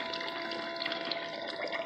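A water pump runs steadily, pushing liquid through with a continuous gushing, splashing flow, fairly faint and heard alone.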